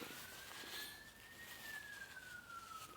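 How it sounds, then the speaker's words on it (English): An ambulance siren wails outside, a steady tone sliding gently up and then down as it passes, faint and distant beneath a broad rumble of background noise. "It's an ambulance."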